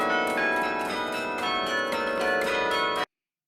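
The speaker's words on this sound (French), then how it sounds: "on entend le carillon" Carillon bells ring in a rapid run of overlapping metallic chimes, loud and continuous for about three seconds before stopping sharply.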